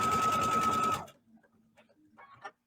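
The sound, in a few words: sewing machine stitching around a heart card banner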